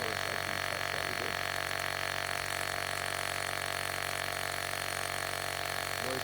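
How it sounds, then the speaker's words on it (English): A LASFIT Air portable cordless tire inflator runs with a steady, dense buzzing compressor drone, close and constant throughout, no talking. "Noise-wise, it's not too noisy. Sounds like a regular compressor."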